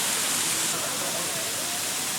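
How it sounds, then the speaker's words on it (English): Lulumahu Falls on Oahu, Hawaii, pours as a steady, broadband roar of falling water that fills the scene evenly, close and constant with no clear voices above it. "We're in Oahu at the waterfall of wisdom."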